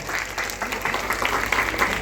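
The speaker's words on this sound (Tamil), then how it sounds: "ஒரு பெரிய கைத்தட்டல் கொடுங்க" Audience applause at a church opening ceremony: a big crowd clapping steadily and densely throughout, loud and close, with faint voices mixed in.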